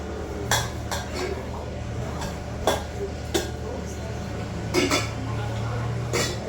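Copper puja vessels clink and clatter as they are handled, several sharp knocks spread irregularly over background room noise, with faint talk nearby.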